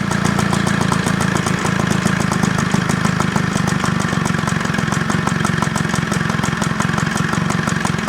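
A tired lawnmower engine from a job lot, idling roughly with a carburetion fault, heard as a rapid, steady chugging putter that runs loud and close without pause and with no voices.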